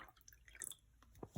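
Vinegar trickling from a small container into a cup of red cabbage water, a few faint, quick drips and splashes close by, the last ones slightly louder, with no talking.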